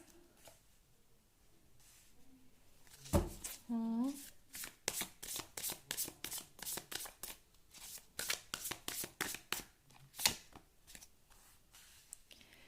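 Tarot cards riffled and shuffled in a rapid burst of crisp flutters, followed by a steady run of sharp individual snaps and slaps as cards are drawn and laid down one by one, close and fairly quiet with a brief voice early on.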